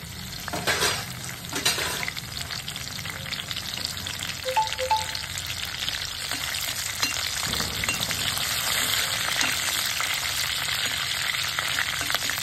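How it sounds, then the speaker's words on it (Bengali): Curry leaves crackle and spit in hot white cooking oil in a kadai, a steady loud sizzle running throughout with sharper pops near the start and occasional stirring clinks. "কারি পাতাটা খুব সুন্দরভাবে ভেজে নেবো"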